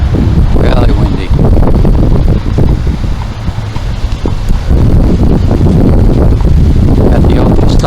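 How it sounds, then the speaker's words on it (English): Strong wind buffets the microphone in loud, continuous gusts near Wickenburg, Arizona, with trailers passing and someone talking through the rumble. "Really windy up here today."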